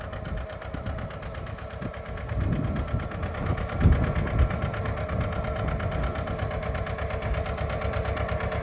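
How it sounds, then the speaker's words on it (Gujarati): A mini tractor engine runs steadily in a peanut field, a close, continuous mid-pitched rumble with a rapid knocking pulse that swells slightly partway through. "મિની ટ્રેક્ટરથી આપણે ઢૂંઢવાનું કામ ચાલુ છે 5 બલૂનથી."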